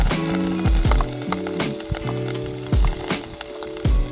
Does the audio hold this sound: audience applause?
no